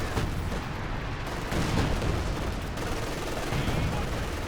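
An artillery barrage in Company of Heroes 2 rumbles with dense, continuous explosions and gunfire at steady loudness, a constant wash of battle noise with no clear pauses.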